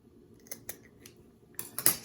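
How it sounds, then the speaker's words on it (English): Scissors snip charcuterie board items in a quick series of crisp, close cuts, a few spaced snips followed by a tighter cluster of louder ones. "go in, you know, with your scissors and cut things"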